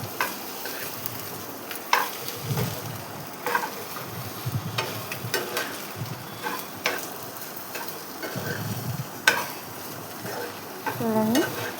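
A spatula scrapes and knocks repeatedly against a pan as egg curry is stirred, rhythmic strokes over a low bubbling simmer, fairly close and clear with no talk.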